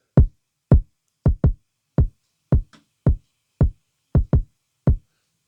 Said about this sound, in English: So for this beat, I actually started with the kicks, this kick right here